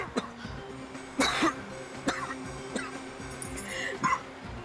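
A man coughs in several short, sharp bursts spread over a few seconds, with quieter throat sounds between them in an indoor scene.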